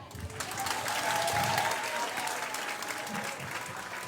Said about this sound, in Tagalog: Palakpakan nyo naman ang slate ng PDP laban senatorials.